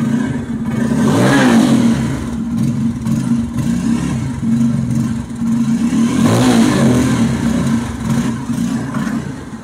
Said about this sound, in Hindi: इसका फायरिंग सुन लीजिए